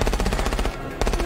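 Rapid automatic gunfire from the zombie action movie Army of the Dead, loud and close, with a steady stream of bursts that briefly drops away near the end before resuming.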